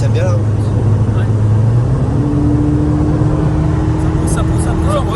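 A red 220-horsepower Volkswagen Golf 7 GTI with a custom exhaust line drones from inside the cabin, its engine tone climbing steadily as it accelerates, with voices talking over it.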